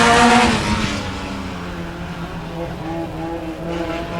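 Mini stock race cars roaring off together at the green flag on a dirt oval, a loud burst of engine noise up front that settles into a steady, droning pack of revving motors, with a commentator talking over it.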